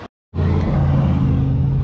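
A Ford F-150 EcoBoost truck with about 74,000 miles starts up after a brief gap of silence and then idles, a steady low rumble holding evenly and close by with no talk.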